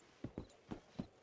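Horse hooves in Red Dead Redemption, four or five separate clip-clop footfalls in an uneven walking rhythm, fairly faint and clean with no talk over them.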